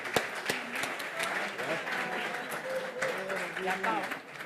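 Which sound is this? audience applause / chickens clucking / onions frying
audience applause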